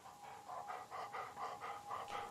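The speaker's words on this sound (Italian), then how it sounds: "good dog" A dog in the video game Blair Witch pants softly in a steady rhythm, about seven quick breaths in a row, fairly quiet with no voices over it.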